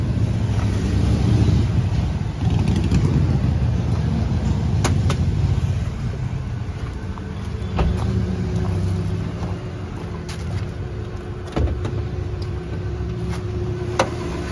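A third-generation Lexus LS400 engine idles with the bonnet open, giving a steady low rumble that stays even and fairly loud throughout, with occasional faint clicks and no voices.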